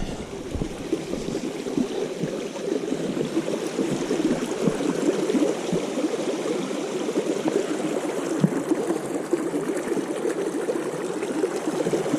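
A stream at a hiking-trail water crossing on Meigs Creek Trail, babbling and trickling continuously at close range with a soft, even rush and no talk.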